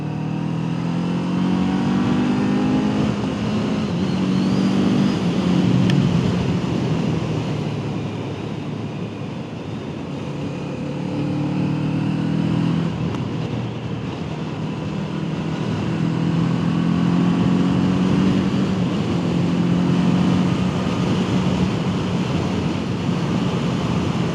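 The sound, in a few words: Kawasaki Eliminator 500 SE motorcycle riding at speed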